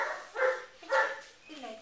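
Three high-pitched barks from a brown sable male puppy, close and moderately loud, the last one softer and whiny, with short pauses between.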